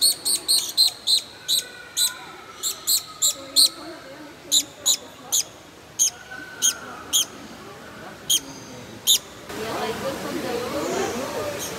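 Parrots at the Green Planet zoo in Dubai give a rapid series of sharp, piercing calls close by, repeated in quick bursts for most of the stretch before a rustling, breathy noise takes over.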